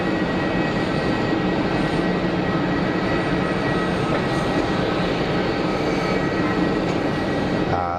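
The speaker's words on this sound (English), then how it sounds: "Embraer departing to the northeast, a little bit of a turn to the north." An Embraer jet departs Geneva Airport to the northeast, turning slightly north, producing a continuous, fairly loud engine roar that holds steady with no talk.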